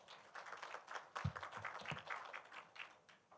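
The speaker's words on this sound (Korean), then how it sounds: "큰 박수 부탁드립니다" Audience clapping at an education forum in South Jeonnam, Korea, as a teachers' union chairman takes the stage: faint, scattered claps with a few louder, closer hand strikes, distant and quiet overall.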